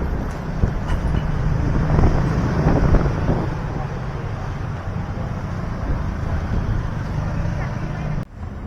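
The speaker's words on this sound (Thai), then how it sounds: "พายุเข้าทุกคนเอ้ย" Strong wind roars and buffets the microphone continuously, a loud rumbling gust that swells in the middle and drops off abruptly near the end.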